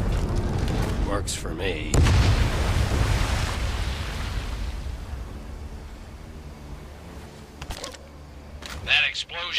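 In a World War II video game, a deep, rumbling explosion booms out and rolls away into a low roar, with someone speaking briefly before and after it.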